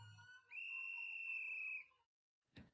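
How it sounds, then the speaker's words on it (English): A whistle blown once in a single sustained, steady shrill tone lasting over a second, fairly faint and alone, followed by a short knock. "That whistle will be so freaking annoying."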